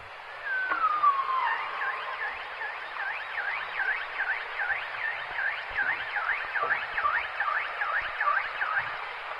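A bowhead whale call of rapid, repeating up-and-down warbling sweeps, like a car alarm, with an opening descending whistle, steady and echoing underwater in Disko Bay.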